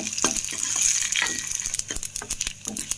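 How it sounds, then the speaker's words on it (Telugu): Tempering sputters in hot oil: mustard seeds, curry leaves, chana dal, urad dal and dried red chillies crackle with a bright hiss, mixed with irregular stirring scrapes and pops. "తాలింపు సామాన్లు కరివేపాకు, శనగపప్పు, ఆవాలు, మినపప్పు ఇవి వేసుకొని తాలింపు పెట్టుకోవాలి."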